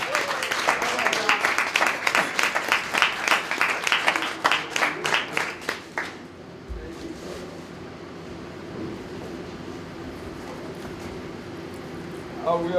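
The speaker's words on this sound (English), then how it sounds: "can we give a big round of applause for Dr." A morning session audience claps for a featured speaker, with loud, dense applause for about six seconds before it cuts off sharply into quiet room tone and faint, distant sounds.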